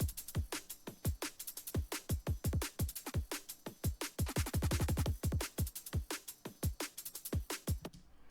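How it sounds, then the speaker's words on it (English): Drum and bass percussion loop in FL Studio for a synth metal track, playing alone: rapid, busy hits with dense rolls and fills in a steady driving rhythm, close and crisp. "I'll play the drum and bass percussion just by itself."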